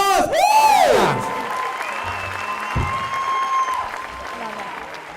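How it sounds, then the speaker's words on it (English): A crowd at a celebrity dance-off charity event applauds and cheers the dance performers, loud sustained clapping with whoops, a voice rising above the noise at first and softer voices under the ovation. "Give you. another round of applause"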